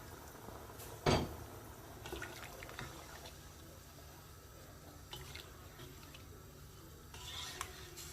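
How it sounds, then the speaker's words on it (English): Kidney bean broth poured into a cooking pot for a homemade Pakistani rajma curry, a faint, soft liquid splash with one brief louder slosh early, under a quiet room background. "Now it's time to add the broth from kidney beans into the pot."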